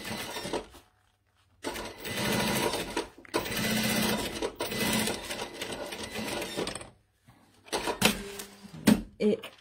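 A sewing machine stitching a fabric pouch with an elastic, running in rapid mechanical bursts separated by short pauses, with quiet clicks and handling noises near the end.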